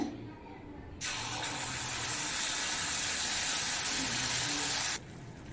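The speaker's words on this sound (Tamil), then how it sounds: "இப்போ இதில் அரைச்சி வச்ச தக்காளி வெங்காய பேஸ்ட்டு சேர்த்துக்கோங்க" Tomato and onion paste hits hot oil with fennel seeds in a pan of capsicum masala, letting out a sudden loud hissing sizzle that holds for about four seconds and then drops away sharply.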